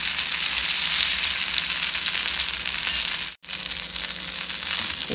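Masala-coated pomfret fish fries in a pan with a steady, close sizzle and crackle that cuts out abruptly for a moment before resuming, with no talking.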